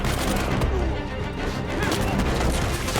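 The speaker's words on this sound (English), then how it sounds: "standing between them and Sam, a buffet of gunfire from Shoreline goons rings in" Dense, continuous bursts of video game gunfire from Uncharted 4's chase sequence, with booms and crashes, loud and chaotic throughout, with faint voices mixed in.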